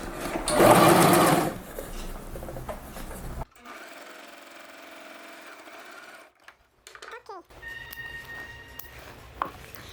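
A sewing machine runs in a quick whir as it stitches a folded fabric ruffle hem. A loud burst comes first, then quieter stitching with pauses and handling noises.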